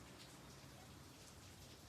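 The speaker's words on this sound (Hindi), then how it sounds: "फिर से बारिश" Steady rain falls outdoors during monsoon weather, a dense, even hiss of drops on surfaces that holds at a constant level throughout with no voices.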